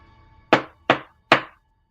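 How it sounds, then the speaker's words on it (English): Three firm knocks on a door, evenly spaced and close, each a solid thud with a short decay, followed by silence. "A knock at the door."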